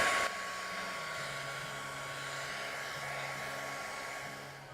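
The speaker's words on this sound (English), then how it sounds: "using the hot air in the hairdryer to melt the wax a little" A hair dryer blows hot air steadily to melt candle wax, a continuous broadband whoosh with a faint motor hum, loud and close, running without pause.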